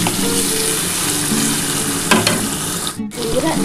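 Potatoes and taro pieces frying in oil in a pan, with a loud, steady sizzle close by and the occasional stir or clatter near the end.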